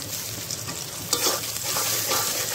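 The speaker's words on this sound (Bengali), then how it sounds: "এবার ওই পেঁয়াজটাকে, কাঁচামরিচ পেঁয়াজটাকে সামান্য একটু ভেজে নেব" Onion, green chili and chopped tomato sizzle steadily in a pan, with a constant close frying hiss and occasional stirring scrapes, and no talking.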